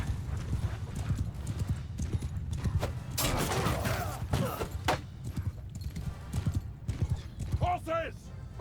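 Cavalry horses gallop in the Mount & Blade 2: Bannerlord battle game with rapid, dense hoofbeats, a horse whinnies near the end, and shouted voices and battle noise sound over the drumming.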